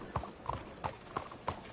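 Horse hooves clop in Red Dead Redemption 2, with five evenly spaced, crisp strikes in a steady rhythm, close and clear against a quiet background.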